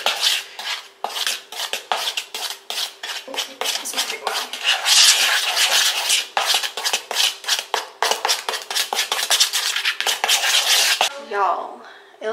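Hair bleach being stirred in a bowl, a fast run of scraping, clinking strokes from a utensil against the bowl's sides, close and loud, with brief pauses between bursts.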